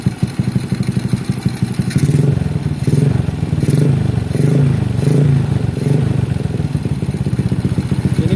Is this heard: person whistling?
no